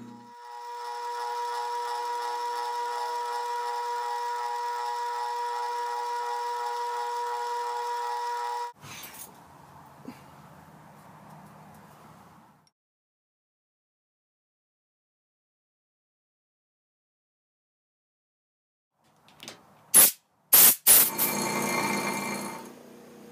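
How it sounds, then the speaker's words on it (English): Metal lathe drilling a steel custom trailer axle part, a steady mechanical hum and whine running for several seconds, dropping to a quieter cutting sound, then silence before brief sharp clanks near the end. "So let's get this thing drilled."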